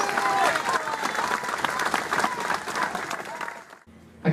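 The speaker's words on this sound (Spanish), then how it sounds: "Fuerte aplauso para él." A crowd at a PRD political gathering for Juan Zepeda in the State of Mexico breaks into loud, sustained applause that fills the space, then cuts off abruptly near the end.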